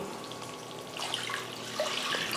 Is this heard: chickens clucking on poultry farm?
no